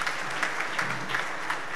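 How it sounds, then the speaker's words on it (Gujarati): Steady applause from a gathered audience welcoming a guest speaker at a talk event, a dense even clatter of many hands with no voices. "એને વિશેષ તાળીઓથી આપણે વધાવવા"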